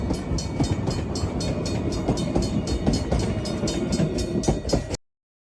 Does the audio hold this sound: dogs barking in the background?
no